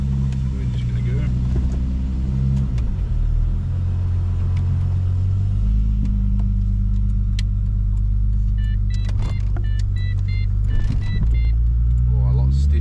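A Holden Commodore VT/VX/VY/VZ with newly changed rear shocks drives on a test run, its engine a steady low rumble inside the cabin with some brief clicks and rattles over the top.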